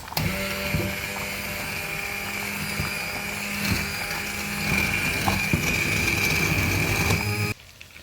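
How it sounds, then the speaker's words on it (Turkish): A blender whirs steadily at high speed for several seconds, pureeing a cooked soup, a constant mechanical whine that cuts off abruptly at the end. "blenderdan geçiriyoruz"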